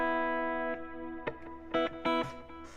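Sustained slide guitar notes in standard tuning ring out with a reverb tail, joined by a few plucked strums, played softly and close.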